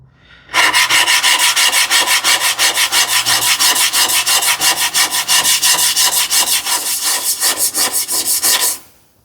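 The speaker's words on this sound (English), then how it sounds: "I will work on the bevel now" A vintage plane blade's bevel is sharpened freehand, giving a fast, even train of loud, gritty rubbing strokes, dozens in a row with a steady back-and-forth rhythm, alone from start to finish.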